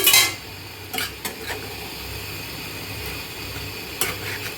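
Pointed gourd peels being stirred in a metal cooking pot, with a sharp scrape at the start and a few brief clinks of utensil against the pot over a low, steady background.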